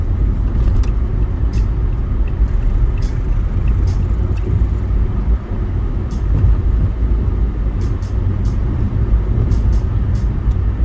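A car on a city street heard from inside, a steady low road and engine rumble with tyre noise throughout and faint clicks now and then, moderately loud.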